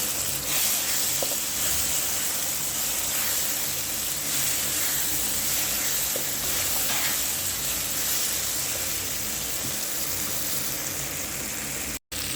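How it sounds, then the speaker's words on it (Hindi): Red chili, whole chilies, salt and turmeric masala frying in a pan for an egg and pea dish, giving a steady close sizzle and hiss with faint stirring that runs unbroken to a brief cut near the end. "और मसाले को अच्छी तरीके से भून लेंगे।"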